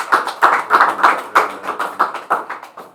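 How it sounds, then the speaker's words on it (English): A small audience claps in scattered, uneven bursts, the individual hand claps close and distinct rather than merging into a roar, with no voices over it. "Let's give a big round of applause."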